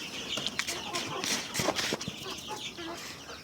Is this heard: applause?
no